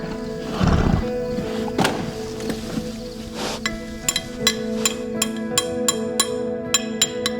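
A mounted police unit's horse lets out a loud, close whinny, followed by steady clip-clopping hooves and a few light metallic clinks.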